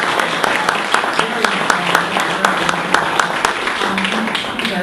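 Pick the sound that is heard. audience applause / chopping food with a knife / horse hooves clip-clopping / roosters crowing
audience applause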